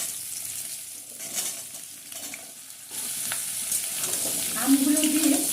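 Mango pieces frying with panch phoron over high flame, a steady sizzle mixed with repeated scraping stirs, growing louder in the second half, with faint voices underneath.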